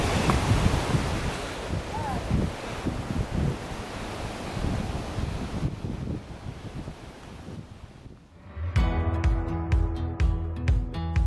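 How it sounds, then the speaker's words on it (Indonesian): Steady, broad wind noise buffets the microphone outdoors on Mount Bawakaraeng, gusting continuously, then shifts near the end to a different steady rumbling texture. "Tapi cuacanya masih berangin."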